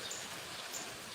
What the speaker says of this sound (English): You can hear the rain gently falling.